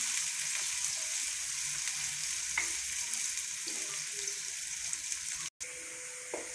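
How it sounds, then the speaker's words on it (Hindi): Washed bitter gourd (karela) fries in hot oil with a steady, close sizzle that stays even throughout, broken once by a brief gap. "करेले अपने वॉश करके रखे थे वो इसके अंदर डाल के फ्राई करते हैं।"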